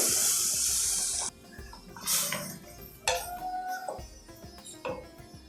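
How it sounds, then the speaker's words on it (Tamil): A glass of water splashes and trickles into a metal cooking pan of sautéed ingredients, a brief steady pour followed by clinks and small splashes of liquid settling. "ஒரு டம்ளர் தண்ணி விடுவோம் ஃபஸ்ட்டு"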